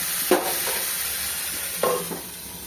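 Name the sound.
winter vegetables sautéing with spices in a pan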